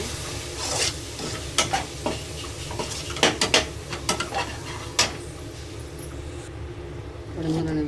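Vegetables with garam masala, salt and chili are stirred in a frying pan, a spoon scraping and knocking against the metal in irregular strokes over a low steady sizzle.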